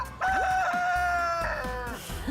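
Chickens on an egg farm, a rooster crowing loudly and close with a sustained harmonic call, surrounded by scattered hen clucks and barnyard noise, no talking.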